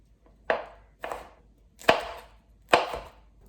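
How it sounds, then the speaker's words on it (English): A knife chops through a red pepper on a cutting board in four separate, crisp strokes spaced about half a second to a second apart. The strokes are close and clear with no talking. "We're gonna cut our red pepper."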